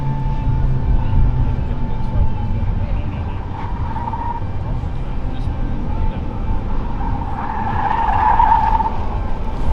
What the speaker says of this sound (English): we have the RTR truck and the Mach-E drift car